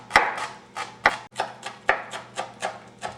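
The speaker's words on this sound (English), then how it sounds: "chop some fresh garlic and fresh parsley, add it to our mixture" A knife chops fresh parsley and garlic on a cutting board, about ten crisp, close knocks in an uneven rhythm, alone and without speech.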